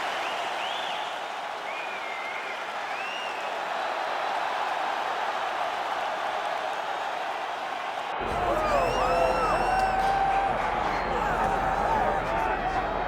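Arena crowd noise from a UFC video game on PS5, a steady broad roar that swells and grows louder partway through, with whoops and cheers rising over it.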